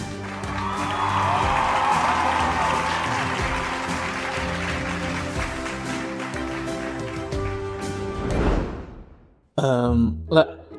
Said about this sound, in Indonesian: Tepuk tangan sekali lagi untuk pasangan pemenang kita.